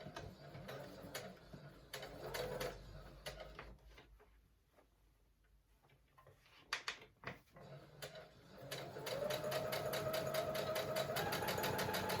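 A sewing machine stitching a fabric face mask with elastic, quiet and close, running in short bursts with pauses, then settling into a steady fast mechanical whir.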